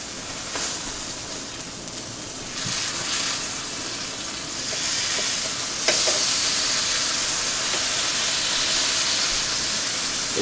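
Sausage patties browning in a hot pan for a homemade sausage egg and cheese muffin, a steady loud sizzle and hiss that swells slightly over time, with occasional light scrapes.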